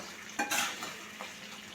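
Jaggery being stirred into mango pachadi in a pan, with a few short scraping, clinking strokes of a spoon against the vessel over a faint steady background.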